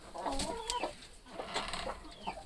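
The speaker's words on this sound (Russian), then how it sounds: "А вот здесь в загоне у меня сидят только петушки." Young roosters cluck and chirp in a pen, several overlapping calls in short bursts over steady barnyard noise, close by, with no talking.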